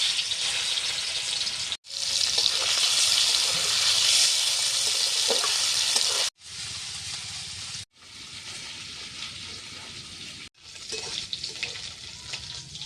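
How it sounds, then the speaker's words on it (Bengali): Shrimp frying in hot oil in a wok, a loud steady sizzle broken by several short cuts, with bursts of crackling and hiss throughout and no voices. "তেলের মধ্যে চিংড়ি মাছ দিয়ে দিচ্ছি ভেজে নেবো"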